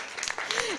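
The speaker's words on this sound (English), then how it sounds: "Please clap for my daddy." Audience at a youth filmmakers' event breaking into applause, a short, dense burst of clapping with a faint voice over it.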